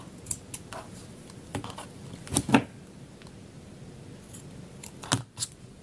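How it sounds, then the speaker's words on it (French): Small scissors snipping through sewing thread during a Christmas craft, a few sharp close clicks and cuts scattered over the stretch, with a louder double snip midway and another near the end. "On va venir découper le fil là,"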